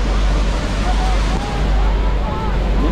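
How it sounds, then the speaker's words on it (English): A broad, constant roar of Niagara Falls water heard from the Hornblower cruise boat, mixed with heavy wind buffeting the microphone and faint crowd babble from passengers aboard. "Niagara Falls, more specifically, is the name of three waterfalls"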